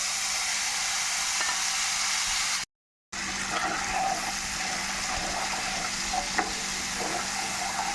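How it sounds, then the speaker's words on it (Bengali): Spice paste fries in oil in a pan for a Bengali potol and yogurt curry, a steady close sizzle with occasional stirring scrapes, broken by a short silent gap partway through. "মশলাটাকে একটু ভেজে নেব"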